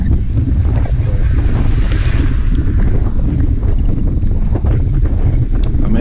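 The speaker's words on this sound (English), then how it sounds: "It's windy. It's raining." Steady, loud wind roaring and buffeting the microphone throughout a cold, rainy group cycling ride, with a constant low rumble and no pauses.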